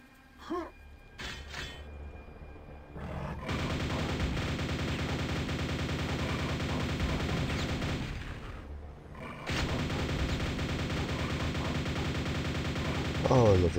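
Rapid automatic nail gun fire in the shooter game Quake, a dense, continuous rattle of shots that starts after a few seconds, breaks off briefly and then resumes, with faint game sounds at the start.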